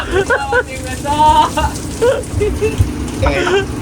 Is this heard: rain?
yes